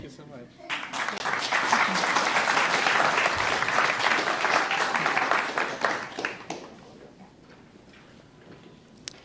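A crowd applauds at a guide dog class graduation for class CA984, giving loud, dense, sustained clapping for several seconds that then thins out and trails off into quieter room sound.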